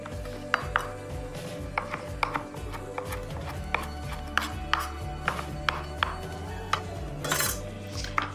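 A kitchen knife finely chopping mint leaves on a cutting board, producing steady, crisp rhythmic taps close up, with no talking.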